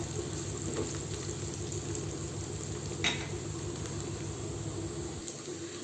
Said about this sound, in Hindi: अदरक लहसुन थोड़ा होने देंगे हल्का सा, बहुत डार्क कलर नहीं करना है।